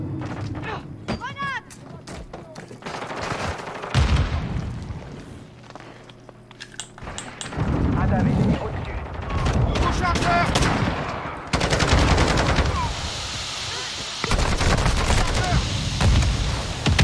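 Turret machine gun firing in a shooter video game, with repeated bursts of rapid automatic fire mixed with other gunshots and footsteps, loud and close, in a busy firefight.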